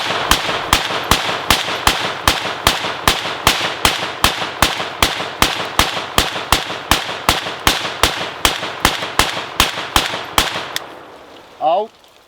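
A ZPAP M70 AK rifle fires a rapid, steady string of about two dozen loud, sharp shots in even rhythm before the magazine runs dry, followed by a brief metallic clatter.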